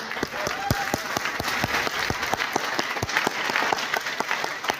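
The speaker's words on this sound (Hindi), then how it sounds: "नागेंद्र सर के लिए एक बार जोरदार तालियां" An audience at a talk on a mobile shop owner's success gives hearty applause, with sharp individual claps standing out in a loose rhythm over the crowd's clapping.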